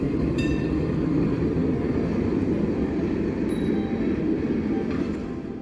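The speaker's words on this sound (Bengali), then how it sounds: "আর সামনের এই এক বগি সম্পন্ন অসাধারণ দেখতে বাদামি রঙের ট্রামটি এই দেশের নস্টালজিয়া ট্রাম" A vintage brown single-car nostalgia tram, the N2, rolling through Budapest, giving a steady close rumble of wheels on rails with a few faint metallic squeals, no voices.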